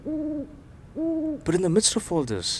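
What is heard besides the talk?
owl hooting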